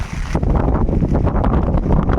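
Wind rushes and buffets loudly against the microphone outdoors beside a river in the Sundarbans, a continuous low roaring gust with no voices.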